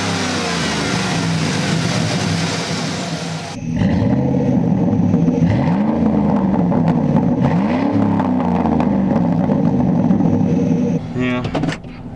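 A car's 4.8 liter V8 engine fitted with a cold air intake runs loudly and steadily up close, its pitch rising and falling as it is revved several times before settling.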